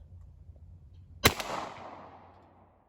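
A single sharp rifle shot fired with Ultramax ammunition, loud and close. It leaves a short echoing decay in an otherwise quiet outdoor setting.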